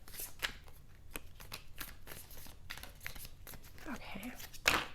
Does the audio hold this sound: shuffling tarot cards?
yes